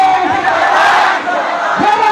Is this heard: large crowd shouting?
yes